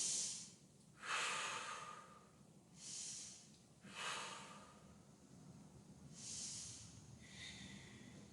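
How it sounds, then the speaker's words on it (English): Slow, deep breathing during a yoga twist pose, with about five soft breaths through the nose rising and falling at a calm, even pace, close to the microphone and fairly faint, with no talk. "Take 3 deep breaths there."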